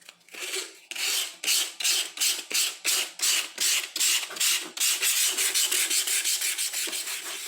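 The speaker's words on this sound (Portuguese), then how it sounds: "Vou dar uma lixadinha, ali embaixo eu já lixei, vou dar uma lixada pra daí depois fazer a pintura." Sandpaper rubbed by hand over an MDF piece before painting, a steady series of about twenty rasping back-and-forth strokes, close and fairly loud, quickening toward the end with no talking.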